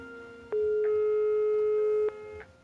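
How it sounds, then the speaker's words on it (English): An outgoing telephone call in the video game Broken Sword: The Serpent's Curse rings out with steady electronic tones, one long sustained beep between shorter pulses, clear and alone without talk. "Come on, answer the phone."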